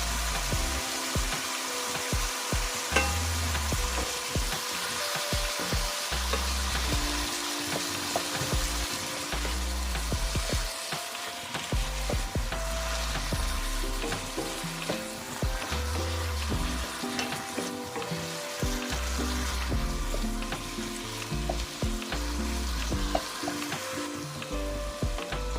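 Pork and mixed vegetables fry with soy sauce in a hot pan, giving a steady, loud, close sizzle with bursts of crackle and stirring throughout, and no talk.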